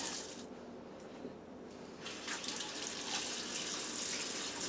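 Tap water runs steadily over freshly boiled eggs in a kitchen sink, a continuous close splashing stream with no talk.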